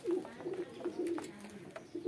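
Pigeons kept indoors coo softly and repeatedly in low, rolling murmurs, fairly close, with faint background noise and no speech.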